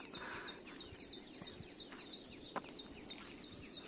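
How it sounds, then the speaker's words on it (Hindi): Small birds chirp and call from the trees on a farm, with repeated short high tweets scattered across the clip over a steady outdoor hum and a sharp click near the end. "ये देखिए इन वृक्षों में जब सुंदर सुंदर चिड़ियाँ, पक्षियाँ उड़ती हुई, कुछ कहती हुई सुनाई देती हैं"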